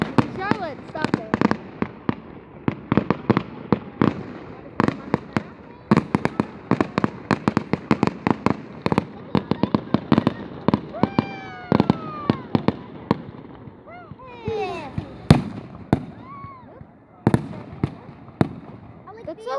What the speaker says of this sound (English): part 2 of the Canada Day fireworks